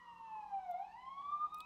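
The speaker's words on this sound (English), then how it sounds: "Well, this is a long siren." A single long siren wails steadily, its pitch sliding down and then rising again in a smooth sweep, clear and fairly close, with no talk over it.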